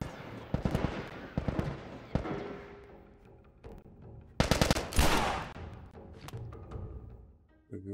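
Gunfire in The Last of Us video game: sharp bursts of shots, some in rapid clusters and one heavy volley in the middle, loud and close, with no talk over them.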